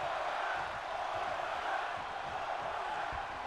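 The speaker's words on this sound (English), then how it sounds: "The crowd are chanting one more time." A large arena crowd in the WWE 2K22 wrestling game chants steadily during a match, a dense continuous roar that stays loud and even throughout, with no distinct voices standing out.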